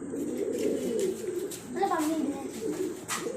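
Soft, low cooing from a pigeon close by in a loft, repeating in a gentle murmur, with a faint voice in the background.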